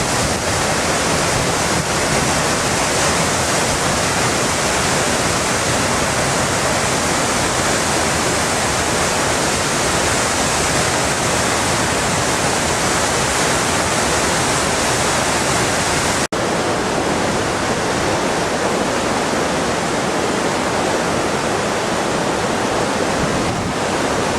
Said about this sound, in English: Well, this is the first waterfall we've seen.